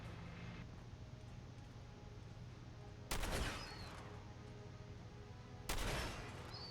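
Two sharp gunshots ring out in Fallout 4, spaced a few seconds apart, each a loud crack with a short echoing tail over a steady low hum of ambient background.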